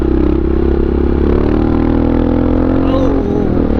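A Honda XR650R supermoto motorcycle roars steadily throughout, a loud, close, continuous single-cylinder engine drone with the pitch shifting slightly as the rider holds the throttle.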